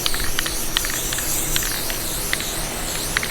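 Continuous hissing spray from an aerosol can of spray adhesive, applied to fabric and foam for a car interior, steady and close, with a few brief sharper bursts spaced through it.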